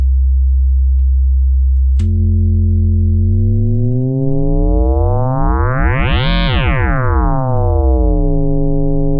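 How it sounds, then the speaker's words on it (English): A loud synthesizer tone holds steady, then shifts into a swooping, warbling sweep that rises to a bright peak and falls back, a metallic frequency-modulated sound. "what we are hearing right now is only this oscillator, but this one is modulating its frequency"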